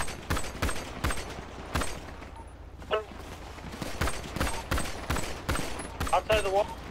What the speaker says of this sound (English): I'm shooting this cop because he started shooting me